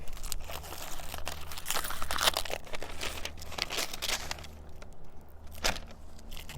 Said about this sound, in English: Let's peel some more of this up.